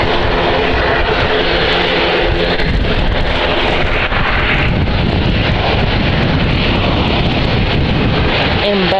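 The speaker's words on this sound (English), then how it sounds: "There's our ATR from Aer Lingus." An Aer Lingus ATR turboprop at Edinburgh Airport produces a loud, continuous engine drone mixed with heavy wind buffeting on the microphone, filling the whole stretch.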